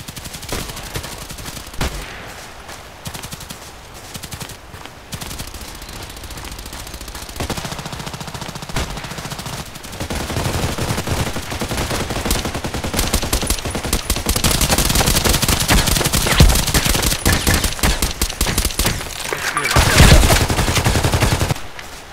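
SMG gunfire in the first-person shooter Contract Wars: bursts of rapid automatic shots, sparse early and growing denser and louder, with a heavy volley near the end.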